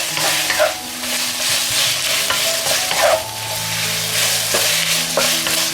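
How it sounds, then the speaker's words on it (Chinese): Garlic scapes stir-frying in a wok with seasoning, a loud close sizzle with repeated scraping strokes of the spatula and metallic clanks against the pan. "翻炒一下就可以了。"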